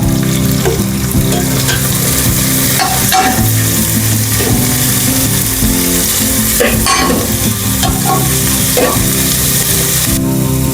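Finely chopped onions fry loudly in a pan for prawn biryani, a dense, continuous sizzle and hiss with frequent clattering stirs, very close and with no talking.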